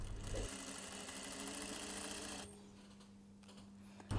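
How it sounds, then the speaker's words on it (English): A sewing machine stitches a 1 cm side seam on a cashmere jacket, a quiet steady mechanical hum that softens midway before a faint clunk at the end. "I'm stitching the side seam."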